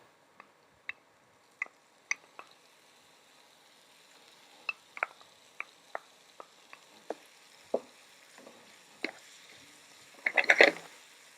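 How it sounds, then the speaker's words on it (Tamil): Marinated paneer being lightly sautéed in a pan, heard as sparse sharp sizzling pops and ticks spread across the clip, faint between bursts, with a denser crackling flurry near the end. "இதை வந்து சேர்த்துட்டு ஒரு 3லேருந்து 4 நிமிஷம் நம்ம என்ன செய்ய போகிறோன்னா அப்படியே லைட்டாக நம்ம வதக்கி எடுத்துக்கோங்க"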